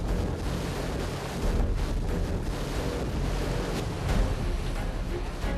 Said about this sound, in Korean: 바람 소리가 심상치 않습니다.